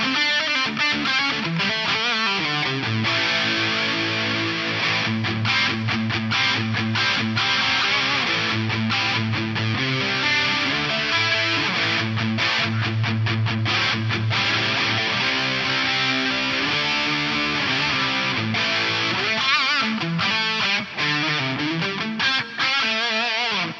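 An electric guitar played through an Alesis Quadraverb set to stereo delay with a touch of reverb, the notes and chords loud and sustained, repeats washing together into a dense, continuous sound with no gaps.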